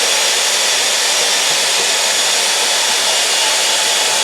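A trigger-operated giant cake mixer spinning bear bait, giving a loud, steady, even whirring hiss that runs without a break.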